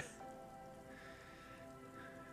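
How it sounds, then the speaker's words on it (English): Steady rain patters and hisses in the game Disco Elysium, a soft, continuous wash of drops over a low musical backdrop, with no voices. "Oh, hello rain."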